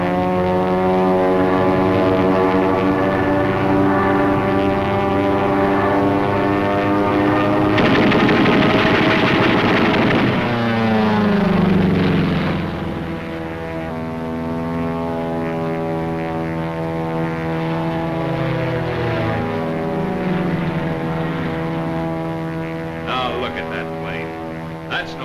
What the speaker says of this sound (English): That's no Zero, that's a P-40.